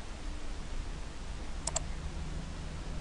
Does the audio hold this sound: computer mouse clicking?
yes